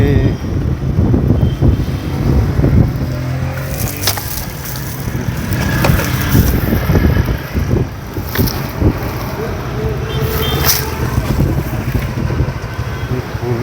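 Strong pre-rain wind in coastal Konkan, near Dapoli, buffets the microphone in continuous low rumbling gusts, with occasional creaks and knocks in the background.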